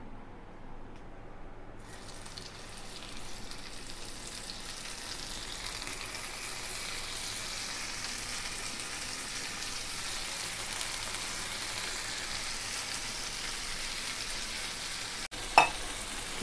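Paneer and mushroom tandoori sticks fry in hot ghee with a steady, broadband sizzle that holds even throughout, ending in a brief sharp clink near the close.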